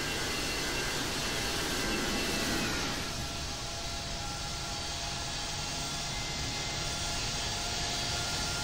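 An American Airlines Boeing 777 jet takes off at Dallas Fort Worth International Airport, a loud continuous engine roar and rumble, strongest early and then holding steady with no voices.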